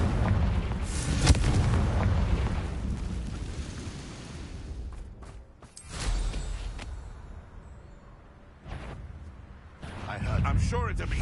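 A Confringo explosion spell goes off in a Wizarding World video game: heavy booming blasts and rumbling bursts, loud and near, recurring across the stretch with short quieter gaps between them.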